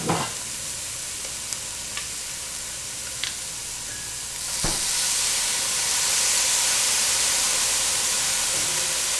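Sliced mushrooms frying in a pan as soy sauce goes in, a sharp burst of loud hissing sizzle that then settles into a steady, close frying crackle.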